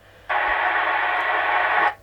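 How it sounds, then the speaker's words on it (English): A PMR walkie-talkie on channel 5 opens with a burst of hissy static for under two seconds, then cuts off abruptly; no clear voice comes through. "See, there's someone on there now, on the channel 5."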